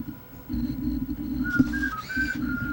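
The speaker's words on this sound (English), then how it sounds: "Oh, you were whistling." Someone whistles a short, high, wavering tune over a steady low hum, with a brief sharper tone midway.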